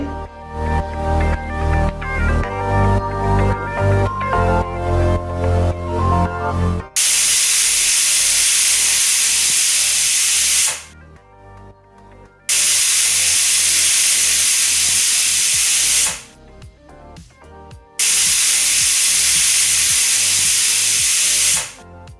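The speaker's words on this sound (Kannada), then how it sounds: "ಮೂರು ವಿಷಲ್ ಕೂಗಿಸ್ಕೊಳ್ಳಿ" Pressure cooker making tomato bath lets out three long, loud whistling bursts of hissing steam, each lasting several seconds with short quiet gaps between, after an opening stretch of music.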